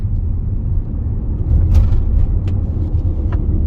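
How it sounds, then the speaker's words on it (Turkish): A Ford E-Transit electric van accelerating in normal mode gives a steady, loud low rumble of road and cabin noise that swells slightly partway through, with no voices. "Şimdi şurada bir kere daha şöyle bir gaza basalım normal modda."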